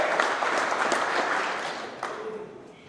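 Applause fills a room at a company employee celebration for a trucking firm, a steady burst of many hands clapping that gradually fades over a few seconds.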